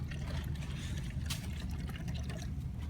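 Liquid concrete color stain in Palace Beige is poured steadily from a container, a continuous close trickling and splashing with no talk.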